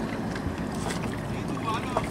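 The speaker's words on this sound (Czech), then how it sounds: "Sea-Doo se jmenuje ta loď?" A Sea-Doo Challenger 230 boat, a 2010 model, runs on open water, its steady low engine drone and water wash mixed with wind buffeting the microphone, with people talking faintly over it.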